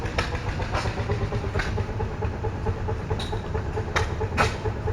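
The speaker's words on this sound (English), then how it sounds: "That's a big engine running over there." A big Fairbanks stationary gas engine runs at a gas engine show in Portland, Indiana, giving a steady, continuous low chugging drone with a few sharp clanks over it.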